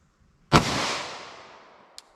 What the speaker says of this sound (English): Let's see if I actually get my Glock 41 here.